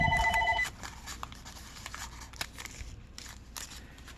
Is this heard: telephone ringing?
yes